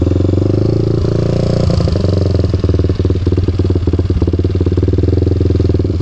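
Kawasaki KFX450R ATV engine running at a rough, loud idle after modifications and in need of tuning, a steady close-up thumping drone with irregular clattery pulses throughout.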